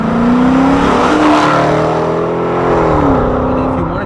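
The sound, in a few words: 2016 Dodge Charger R/T engine with aftermarket mufflers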